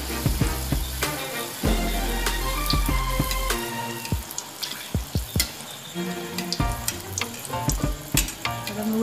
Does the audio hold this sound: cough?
no